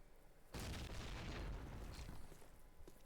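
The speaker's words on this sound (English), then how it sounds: "Nades go out." A grenade explosion in the Call of Duty: United Offensive multiplayer game gives a sudden deep boom, followed by a sustained rumbling roar that slowly fades.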